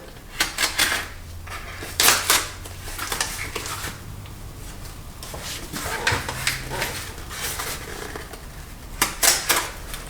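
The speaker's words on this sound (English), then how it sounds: "Just gonna cut the tape off of these edges here" A blade slices packing tape along the edges of a box holding a rare leather book edition, making sharp, intermittent ripping and crackling bursts close by, with quieter handling between them.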